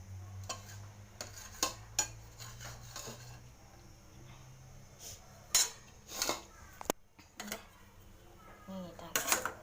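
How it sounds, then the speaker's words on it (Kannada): A spoon clinks and scrapes against a pan while rice is stirred through masala for a lunch box, giving scattered sharp taps and clatters at an uneven rhythm over a low background hum, with some voice in the background. "ರೈಸ್ ಹಾಕ್ಕೊಂಡು ನೀಟಾಗಿ ಮಿಕ್ಸ್ ಮಾಡ್ಕೋಬೇಕು"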